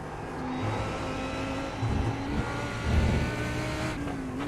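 GT3 race car engine in iRacing at Virginia International Raceway, a loud continuous roar that holds and climbs in pitch as the car accelerates, with no voices.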